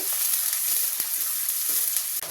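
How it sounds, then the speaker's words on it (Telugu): Chopped onions and green chillies frying in oil in a pan, giving a loud, close, continuous sizzle with a few soft stirring taps. "కట్ చేసి పెట్టుకున్న ఉల్లిపాయలు అలాగే రెండు పచ్చిమిరపకాయలు కొంచెం వేగాలి"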